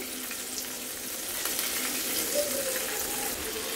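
Chicken pieces fry in hot oil for crispy fried chicken, a faint, steady hissing sizzle that runs throughout at low volume with a slight swell in the middle.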